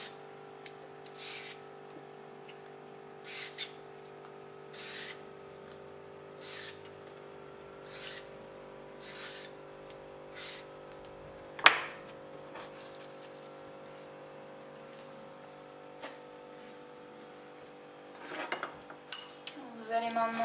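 A bell pepper and cucumber have their skin peeled off in a series of short, evenly spaced scraping strokes about a second apart, with a low steady hum underneath.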